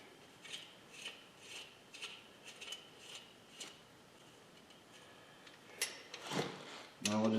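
A ratchet wrench tightens a nut while alternator, power steering and AC compressor parts are fitted to a car engine. Faint, evenly spaced clicking strokes repeat in a quiet workshop, ending with a louder clatter.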